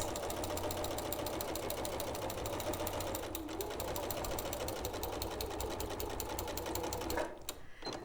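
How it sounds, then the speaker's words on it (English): A sewing machine runs steadily, top stitching close to the upper edge of a fabric bag pocket without reversing, in one continuous rapid rhythmic whir that stops near the end. "I'm going to take it to the machine and I'm just going to top stitch"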